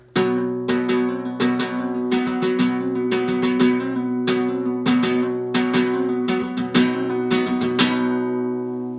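Fast, driving flamenco guitar strumming in siguiriya compás with rapid rasgueado flourishes and sharp accented strokes over ringing chords, played steadily without pause.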